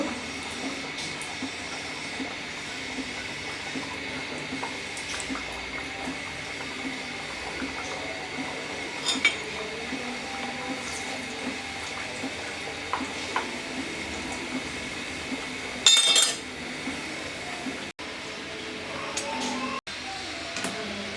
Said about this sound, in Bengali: তেলটা গরম হয়ে গেছে আমি এবার খাজাগুলো দিয়ে দিচ্ছি